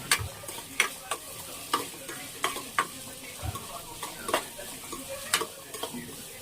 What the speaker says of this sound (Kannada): ಸಣ್ಣದಾಗಿ ಹಚ್ಚಿರುವಂತಹ ಈರುಳ್ಳಿ ಮತ್ತೆ ಬೆಳ್ಳುಳ್ಳಿನ ಹಾಕೊಂಡು ಚೆನ್ನಾಗಿ ಫ್ರೈ ಮಾಡ್ಕೋಬೇಕು